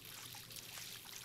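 Water runs steadily from a sink tap in Life is Strange, a soft continuous trickle and splash at low volume with no voices over it.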